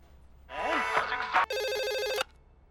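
A phone rings loudly and close by, an electronic ringtone that warbles briefly, then shifts into a steady buzzing ring before cutting off abruptly, in a comedy show.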